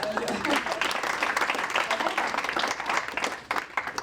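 Audience applause at the Silver Valley 2022 awards ceremony in France, steady dense clapping filling the room for several seconds, with a voice speaking over it.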